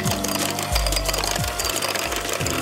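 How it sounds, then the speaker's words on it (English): An electric mixer whips cupcake batter at a higher speed, a loud, close mechanical whir with a rhythmic rattling pulse that swells and dips in repeated cycles, heard alone without talk. "we're gonna start whipping. Okay, I'm ready to turn it up to the next speed."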